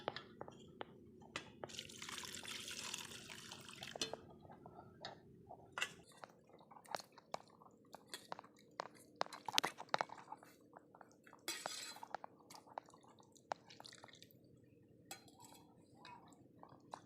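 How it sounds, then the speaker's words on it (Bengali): Cut chicken pieces being washed in water in a home kitchen, with soft splashing, dripping and occasional clinks of a bowl or dish scattered irregularly at low volume, without talk. "এরপর আমরা এটাকে জলে ধুয়ে ফেলবো ভালো মতন।"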